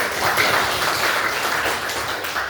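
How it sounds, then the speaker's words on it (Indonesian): Students in a classroom clapping together, a moderately loud, uneven patter of hands that swells and dips a little but carries on steadily throughout. "tepuk tangan dulu"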